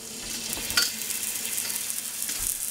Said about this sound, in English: I'm going to right now try frying a couple more pieces